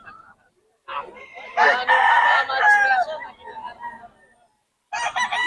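A gold sweater gamefowl rooster crows loudly and close by, with a long, cracking cock-a-doodle-doo, followed after a pause by the start of another crow.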